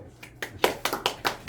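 Several sharp hand claps ring out in a steady rhythm after a lecture on modern theology, close and fairly loud with no voices over them.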